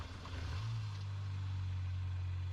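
A Mini Cooper with 123,000 miles catches and settles into a steady, low engine idle, heard close and continuous with no talking.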